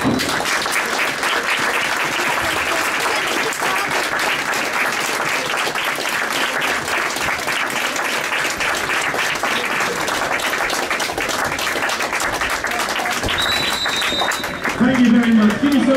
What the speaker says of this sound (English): Give yourselves a round of applause and vote.